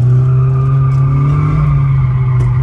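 A Renault Clio 3 RS Cup on track, its tires squealing in a continuous loud skid as the front end slides, with the engine droning steadily underneath at close range.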